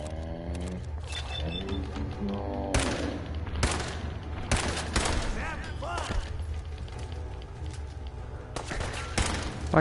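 Gunfire in Fallout 4 during a raider fight at Greentop Nursery, with several sharp close shots and bursts of rapid fire, thuds and growling creature sounds mixed through a continuous game soundscape.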